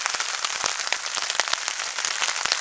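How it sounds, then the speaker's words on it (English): Steady rain patters on surfaces near a hammock camp, a dense, continuous crackle of drops with scattered sharper hits, moderately quiet and even throughout. "Yeah, it's raining pretty good."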